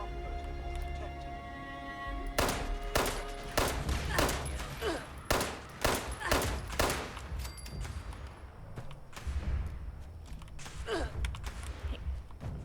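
Gunfire from Fallout 76 video game: a rapid run of sharp shots and bursts in the middle, with scattered further shots trailing off over ambient game background.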